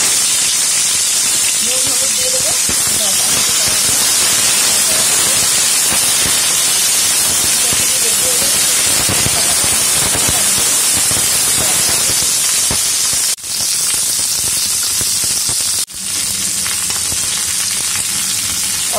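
Flat beans sizzle loudly and steadily in hot mustard oil with nigella seeds and a dried red chilli, a dense, continuous frying hiss that runs the whole time with two brief dips.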